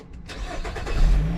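A 2013 Nissan X-Trail Xtremer automatic cranks and fires up, a short close starter whirr rising into the engine catching and settling, with no talking over it.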